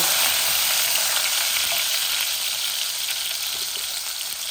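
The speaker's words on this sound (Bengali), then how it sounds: "এই রসুনগুলো আমি শুটকির মধ্যে দিয়ে দিচ্ছি। এগুলা ফ্রোজেন রসুন তো, একটু ফুটতেছে।" Frozen garlic cloves crackle and sizzle loudly in hot oil with dried fish, a dense, continuous hiss with fine popping close up and no talk.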